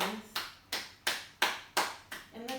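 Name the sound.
hands clapping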